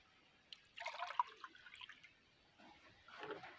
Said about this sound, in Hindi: तो पहले मैं पानी को इस गिलास में डाल लेता हूँ